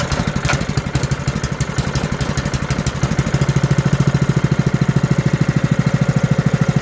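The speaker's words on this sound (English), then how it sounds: "Cold start with choke, bench testing, take 1." Small engine being cold-started with the choke on during a bench test, first a rough, uneven sputter, then a steady fast idle with a loud, close, rhythmic putter and clatter, with no voices.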